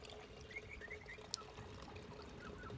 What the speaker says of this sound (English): In goes the dirty water.